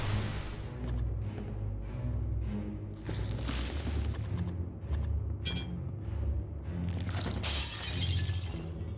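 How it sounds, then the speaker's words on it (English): Mirror glass shatters under a hammer strike in the Shadowgate (2014) remake, a series of bright crashing and breaking bursts over a rumbling low boom, loud and layered with game sound effects throughout. "strike the mirror with the hammer. The glass falls away"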